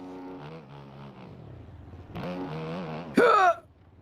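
Motocross bike engine in the MX Bikes racing game, dropped into first gear for a jump, droning steadily then surging into a louder, sharp rev near the end before cutting off.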